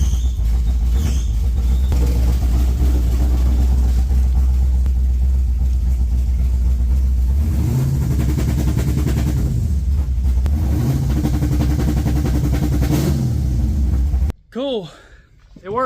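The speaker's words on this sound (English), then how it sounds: "I'm going to start this thing up, let it warm up a second, and I will grab the trans brake and see if the two-step works" A race car engine fires up and idles with a loud, heavy rumble, then revs in rising and falling surges as a two-step launch limiter is tested with the trans brake held, ending in a sudden cutoff.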